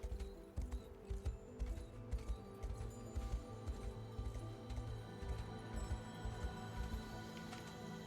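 Steady clip-clop of horse hooves trotting at a regular pace in a video game, moderately close, over a low rumbling ambient background.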